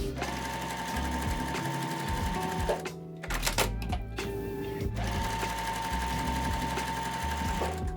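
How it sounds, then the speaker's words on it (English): A sewing machine stitching quilt block rows together runs at a steady, close whir, pausing briefly in the middle before starting up again and carrying on continuously. "So I'm gonna go ahead and start sewing my little rows together here"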